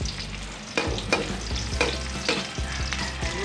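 Garlic, onion and ginger frying in a pan, with a spoon scraping and stirring in several sharp strokes over a steady sizzle, close and loud, no speech.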